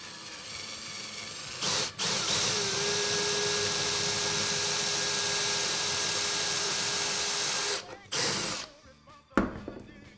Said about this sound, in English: Pretty easy to drill these.